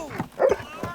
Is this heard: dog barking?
yes